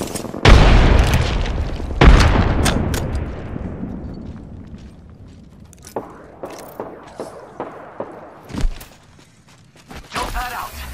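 A frag grenade detonates in the Apex Legends video game with a loud booming blast and long rumbling tail, followed by a second boom, then scattered sharp impacts and gunfire-like cracks, with a voice briefly speaking.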